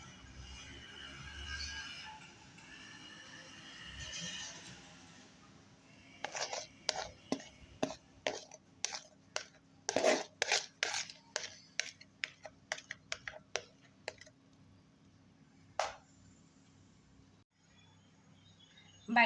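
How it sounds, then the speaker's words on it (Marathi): A tin of besan dhokla batter is tapped on a hard surface, giving a run of crisp, close metallic knocks in an uneven rhythm that thins out toward the end, after someone speaks quietly at the start. "ते असं टॅप करून घ्यायचं, म्हणजे त्यात जे काही एअर बबल असतात ते निघून जातात."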